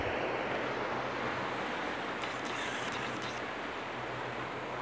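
Ocean waves wash and surge steadily at the foot of a steep cliff, a continuous broad roar mixed with wind buffeting the microphone, with no voices.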